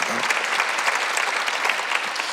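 A church congregation claps together at an Easter Sunday service, a dense continuous burst of applause that stays loud and even throughout, filling the room.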